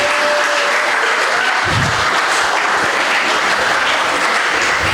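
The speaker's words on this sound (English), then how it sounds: "Let's clap for yourself." An audience at a startup event in Goa applauds with dense, steady clapping that fills the hall for several seconds.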